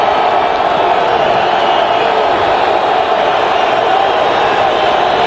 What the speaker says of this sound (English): The crowd getting very,